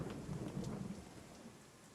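Thunder from a lightning strike in the video game Craftopia rumbles low and fairly quiet, mixed with a rain-like hiss, and fades over two seconds with no voices.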